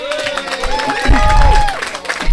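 An audience claps for the volunteers at a community Ganesh festival celebration, a short burst of crowd applause swelling midway with a sustained tone and voices underneath.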